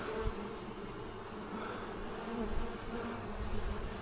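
Honeybees swarming around a piece of honeycomb lifted from a hive, a dense, continuous buzzing hum that swells and fades slightly as the insects move close around it, with no voices.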